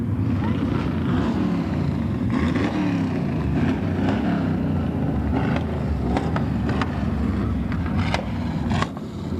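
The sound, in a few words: parade cars driving past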